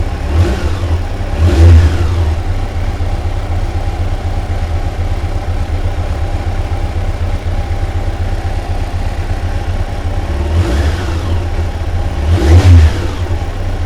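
A Yamaha FJR 1300 motorcycle engine idles steadily up close, with two short throttle blips near the start and two more near the end, each a brief rising rev that quickly drops back to idle.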